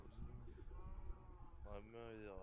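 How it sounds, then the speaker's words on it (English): Sheep bleat in a video game, a wavering drawn-out baa rising clearly near the end while people talk quietly over the game sounds. "There are a few sheep around."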